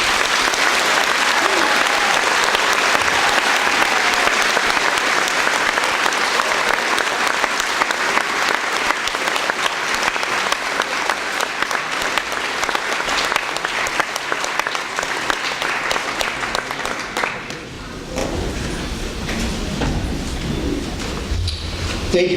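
Sustained audience applause fills a graduation ceremony venue, a dense steady clapping from a large crowd that runs continuously for over twenty seconds before thinning slightly near the end.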